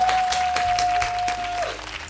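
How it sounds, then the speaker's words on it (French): Short burst of applause, steady clapping for about two seconds with a sustained tone running underneath before it fades out. "Applaudissez-moi."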